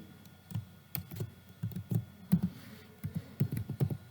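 A Python statement is typed on a computer keyboard: a close series of soft, dull key taps in irregular clusters over a faint low hum.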